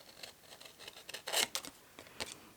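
Small scissors fussy cutting paper, heard as faint, irregular snips and rustling scrapes close by in a quiet room.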